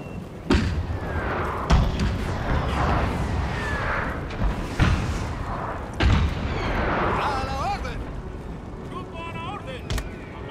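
Cannon fire in Total War: Napoleon, a battle as Spain: several heavy booming shots spaced a second or two apart over a rumbling battlefield din, with someone talking throughout.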